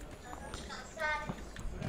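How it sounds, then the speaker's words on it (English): Horse hooves clip-clop in a steady walking rhythm during a ride in the video game Assassin's Creed II, with a voice talking over the hoofbeats. "A nice horse ride."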